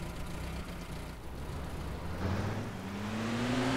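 A car driving into a hall in the video game DayZ, with a continuous engine drone whose pitch rises steadily as the vehicle accelerates. The engine is close, loud and alone.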